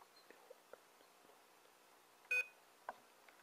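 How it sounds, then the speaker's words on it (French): Arduino buzzer wired to digital pin 4 sounds a short electronic beep, near and fairly loud, against a quiet background with faint scattered ticks. "il faut que je branche mon buzzer sur la patte Digital 4."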